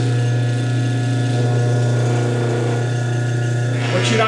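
Electric motor driving an alternator on a test rig with the belt removed, a loud steady hum with a strong low drone and tonal whine, constant throughout.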